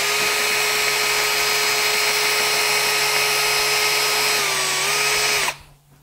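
A KS Tools stud wheel hub grinder whirs steadily at high speed while cleaning around the wheel studs on a hub, its tone dipping slightly near the end before it cuts off abruptly into near silence.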